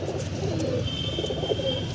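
A white Madrasi pigeon coos close by, a soft, steady, throaty murmur with a faint high tone running above it.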